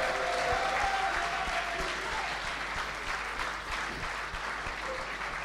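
An audience applauds at the finale of a decathlon event, with dense, sustained clapping from a crowd that stays steady and fairly close throughout.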